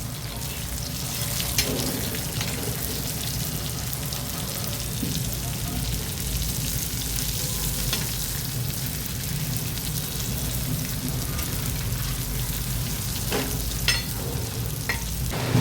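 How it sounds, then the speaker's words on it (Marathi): Pieces of a moong vegetable mixture fry in a pan with a steady, close crackling sizzle that runs throughout, broken by a few sharper pops and clicks as the pieces are turned. "काही सेकंदाने हे आपण असं पलटी करून लालसर असं हे भाजून घेऊया."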